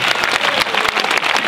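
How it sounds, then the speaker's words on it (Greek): Applause from a crowd at a school sports exhibition in Alexandreia, a dense, continuous patter of many hands clapping, fairly loud and close, with no clear speech over it. "Χειροκρότημα."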